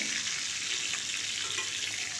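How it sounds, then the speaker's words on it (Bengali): Pieces of pointed gourd fry in oil in a pan, making a dense, even sizzling hiss that holds steady throughout with no voices. "আর দেখুন একটা দিক ভাজা হয়ে গেছে উল্টে দিচ্ছি উল্টে অপর পিঠটাকেও ভেজে নেব"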